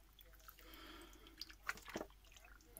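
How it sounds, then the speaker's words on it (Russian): Cheap store-bought juice poured over shashlik meat in a marinade, with soft wet splashing and scattered drips close by, faint and brief against a quiet room. "И добавляем сок."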